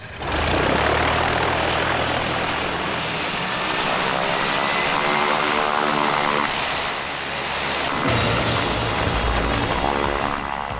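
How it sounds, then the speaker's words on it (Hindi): An airplane takes off down a runway. A loud, steady engine roar with a propeller-like drone fills the whole stretch and swells near the end, with no voices. "Take of low."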